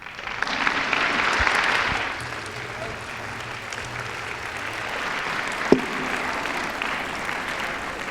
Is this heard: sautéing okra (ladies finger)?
no